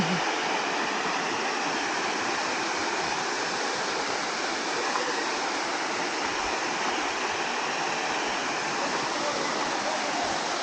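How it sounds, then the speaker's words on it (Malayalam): Shoolam waterfall, a small falls of cold water tumbling into a pool, gives a steady, dense roar of rushing water, close and unbroken throughout with no voices. "ഇതാണ് വെള്ളച്ചാട്ടം."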